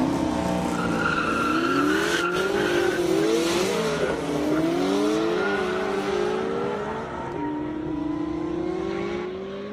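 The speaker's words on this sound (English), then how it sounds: "Car loses traction halfway down and everywhere." A 1969 Camaro race car roars down an airstrip drag course at an event, its engine wailing steadily as the tires squeal and skid from lost traction, loud and sustained before fading slightly toward the end.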